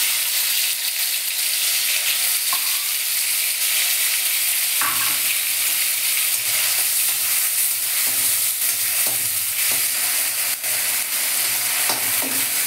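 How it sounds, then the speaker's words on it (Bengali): A ginger, garlic, onion and chili paste fries in oil in a wok, giving a continuous loud sizzle with occasional stirring scrapes and clatters, no voices present. "পেস্ট করে এখন তেলের মধ্যে ভাজছি।"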